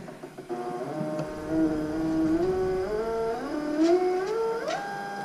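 A pipe-beveling weld positioner runs at top speed, its motor whine holding steady and then climbing in pitch in a few steps, close and continuous with no talking.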